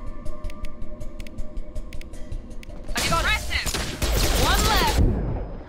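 Gunfire in the video game Mass Effect 2 bursts out loud and sustained in the second half after a quieter stretch, heavy rapid shots layered with sci-fi weapon effects.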